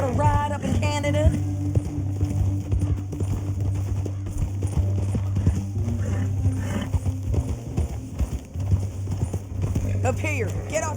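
Horse hooves clip-clop along a canyon trail in the Red Dead Redemption 2 video game, a steady rhythmic clatter under a constant low background hum, with brief voices talking over it.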